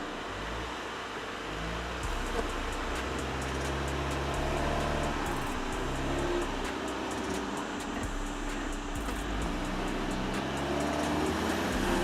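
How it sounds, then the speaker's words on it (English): A Volkswagen Touareg crawls off-road over an obstacle in off-road mode, its engine a steady low rumble close by, with scraping and knocking through the whole stretch and no talking. "let's see how the Touareg drives in off-road mode"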